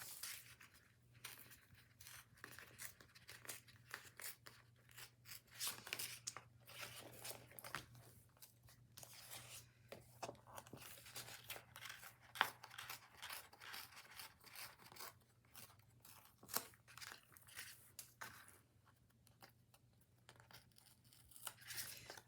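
Paper being torn by hand to make a Valentine's Day tag: quiet, close rasping rips and rubbing in a long uneven series of short strokes, with a low steady hum underneath.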